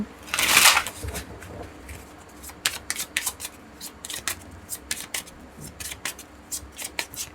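Tarot cards being shuffled by hand before a draw: a loud riffling rush at the start, then a string of light, close card taps and flicks.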